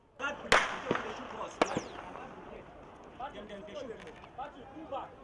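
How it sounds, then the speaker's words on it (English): Two sharp gunshot cracks ring out a second apart amid a noisy crowd and talking during a Shiite invasion of the National Assembly, followed by scattered fainter pops. "Then came sporadic gunfire, forcing them to retreat."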